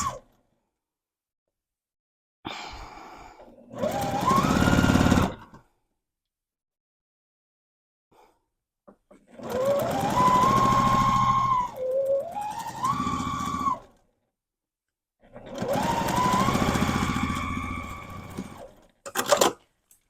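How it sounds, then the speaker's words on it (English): A sewing machine stitches a seam on a stuffed fabric goose, running in three separate bursts of whirring, ticking motor noise. The pitch rises as each burst speeds up, with quiet pauses between the bursts. "sew from the beak opening down this edge, back stitch at the beginning and the end, 1/4 inch seam allowance."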